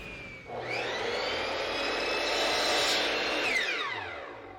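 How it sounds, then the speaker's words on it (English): A table saw or compound miter saw spins up with a rising whine, holds a loud steady high-pitched roar while cutting a wood piece, then winds down at the end. "we'll head over to the table saw and the compound miter saw and begin cutting up the pieces"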